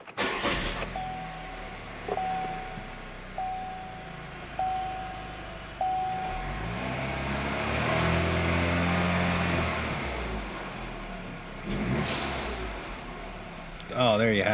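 A 2018 Chevy Cruze with a turbocharged engine idles, then revs up and accelerates hard during a boost pressure test with a suspected underboost fault, the engine note rising and falling close by; a few electronic beeps sound early, and faint speech is present.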